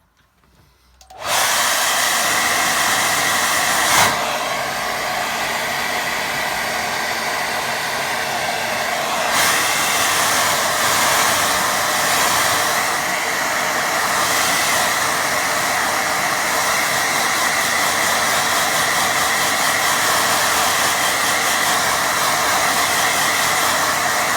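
A hair dryer blows on a watercolour sunset painting, switching on after a second of quiet and then roaring steadily and loudly up close for over twenty seconds, with slight shifts in tone as it moves.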